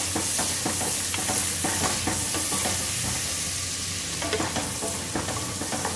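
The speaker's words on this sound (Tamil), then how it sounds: "இன்னும் கொஞ்சம் வதங்கட்டும்." Vegetables sauté in a pan for jackfruit biryani, giving a steady, close sizzle with irregular scraping clicks from stirring throughout, and no talking.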